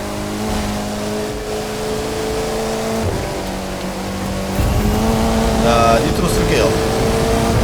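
A Ferrari and a Mercedes-Benz race in the video game The Crew 2, their engines droning steadily and rising louder toward the end, with a voice talking over the action.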